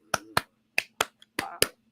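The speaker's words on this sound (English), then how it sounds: "Do the Clipper clap." Rhythmic team clapping for the Clippers basketball fans, sharp hand claps in an uneven pattern of about six hits with short pauses, close and fairly loud with no talking.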